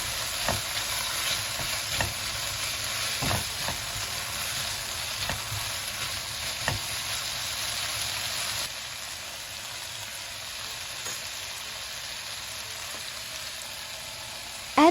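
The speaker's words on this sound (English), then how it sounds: "add 3 tablespoons oyster sauce, continue to stir-fry for 30 seconds." Beef and bitter gourd stir-fry with oyster sauce in a hot pan, a constant loud sizzle punctuated by regular scrapes and knocks of a spatula, easing slightly partway through, with no voices.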